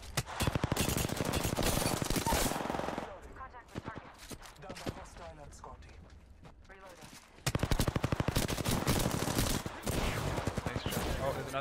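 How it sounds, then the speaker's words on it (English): A teammate's rapid automatic gunfire in Apex Legends bursts in two long, loud volleys, separated by a quieter stretch of scattered shots, with speech mixed in. "Teammate shooting."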